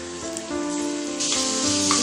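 Onions sautéing in a pan for a Tamil-style beetroot kootu, a steady close sizzle and crackle with stirring, rising brighter and louder partway through.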